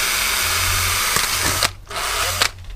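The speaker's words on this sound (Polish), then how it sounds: "Teraz mam takie małe wiertełko do metalu. Możemy sobie przewiercić w miejscu, gdzie będzie śruba, gdzie będzie wkręt." A small metal drill bit bores a screw hole through a metal vehicle licence plate, a steady high whine running for about 1.6 seconds, stopping briefly, then resuming close and loud.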